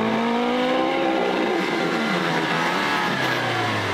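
A new car's engine revs hard in sport mode, its loud exhaust roaring close by with rising and falling pitch over a steady rumble, no talk.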